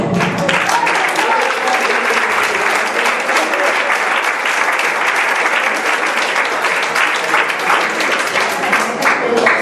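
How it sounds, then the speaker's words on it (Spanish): A church congregation bursts into applause, a loud dense wash of clapping that holds steady throughout without pause. "Un aplauso."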